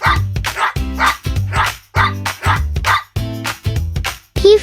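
An Old English Sheepdog barks in a rapid series of loud, close woofs and yips, the barks coming in a steady rhythm with short gaps.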